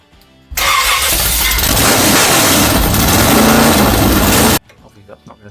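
A classic Mini engine under restoration cranks on the starter for about four seconds without catching, a loud, steady churning whir that cuts off abruptly.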